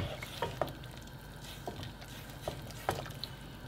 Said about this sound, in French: On n'hésite pas à mélanger de temps en temps